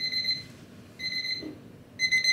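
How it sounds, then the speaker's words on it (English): A kitchen-style timer alarm goes off after 25 minutes during an evening self-care routine, giving three crisp bursts of rapid high-pitched beeping separated by short gaps, loud and close with no voices. "that's the timer"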